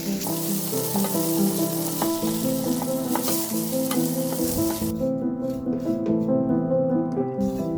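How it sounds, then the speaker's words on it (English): Vermicelli sautéed in two tablespoons of ghee in a pan, a bright steady sizzle with stirring under background music; the frying hiss drops away sharply partway through while the music continues. "I sauté it in the ghee until it turns golden"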